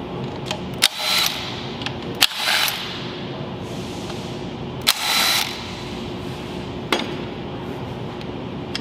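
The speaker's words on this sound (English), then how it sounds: "Now we're gonna unbolt these bolts, and this should be able to go slide in and then we can take, remove it." A ratchet loosens bolts on a ZF 8HP50 automatic transmission during a teardown, sharp metallic clicks and short rasping ratchet sweeps in a few separate bursts, close and clear with no talk.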